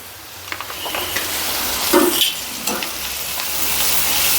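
Ginger paste sizzling in hot oil in a pan for a dried prawn curry, a steady close frying hiss broken by stirring scrapes and clinks, no talking.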